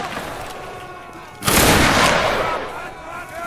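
A musket volley in the Roblox game Waterloo erupts as one loud, dense burst of massed gunfire that rolls out and fades over about two seconds, following a spoken command.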